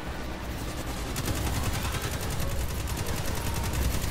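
Rapid, dense gunfire crackles through a Destiny 2 strike on the Inverted Spire, shotgun blasts mixed into a steady barrage of repeated shots and explosions, continuous and fairly quiet with no talk.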